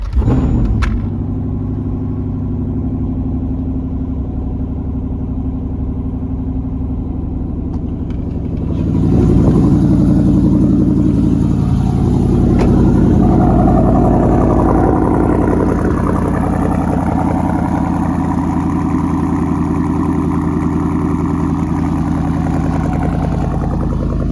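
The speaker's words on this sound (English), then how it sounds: "Start the car up." A Dodge, Jeep, RAM or Chrysler vehicle fitted with a Uconnect 8.4 radio starts up, then settles into a steady, close, low idle rumble that swells slightly after the first several seconds and holds for a long stretch.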